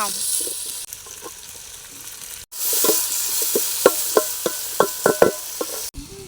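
Onions sautéing in a pan for country chicken biryani, a hissing fry under a run of sharp spatula scrapes and taps that quicken toward the end, close and moderately loud.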